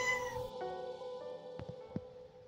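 A cat meows close by, a drawn-out cry followed by a couple of shorter calls, standing out clearly with no talking over it.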